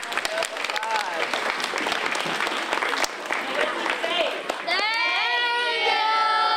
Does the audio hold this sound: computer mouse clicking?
no